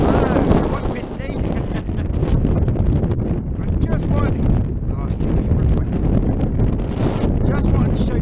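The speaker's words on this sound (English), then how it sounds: "Quite windy." Strong wind buffets the microphone outdoors on a long walk toward a fort, a loud continuous low roar with gusty swells throughout, while a person speaks briefly over it.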